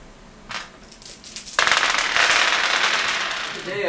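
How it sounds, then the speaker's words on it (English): Explosion sound effects crackle and rumble, a short burst followed by a loud sustained blast-like roar and rattling debris, with talk partly underneath. "just cut to some explosions and stuff"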